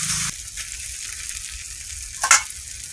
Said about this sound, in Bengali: এবারে তুলে এইভাবে তেলটা এদিকে দিয়ে দেবো কচুর ফুলগুলো।